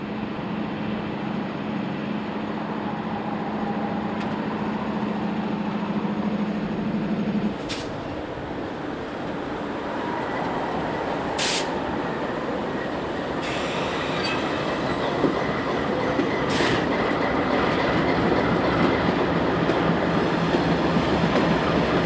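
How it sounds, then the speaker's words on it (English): A westbound CF&E freight train on the Indiana Harbor Belt rumbles past steadily, led by two newly acquired GE-8 locomotives and three road units, with a low engine drone early, rail clatter and brief squeals building toward the end. "Another westbound CF&E train arrives at the IHB with two, at the time, newly acquired GE-8s leading 3 road units"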